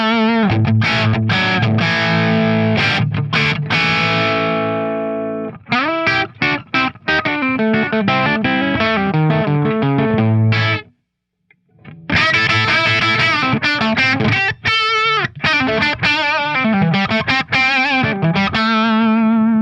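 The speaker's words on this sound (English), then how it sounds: "I'm trying to simulate a Marshall Plexi in this case." Crunchy overdriven electric guitar riffing through a simulated Marshall Plexi amp, chords and palm-muted chugs, loud and up front, with a brief silent pause midway before the riff resumes.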